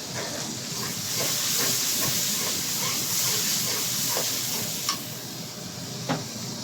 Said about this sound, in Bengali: এই মশলা বাটা দেওয়া হচ্ছে